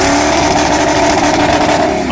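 A 6.0-liter Power Stroke diesel truck held at redline during a burnout gives a loud, steady, strained engine roar that fills the whole moment without pause.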